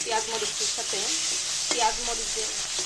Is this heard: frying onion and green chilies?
yes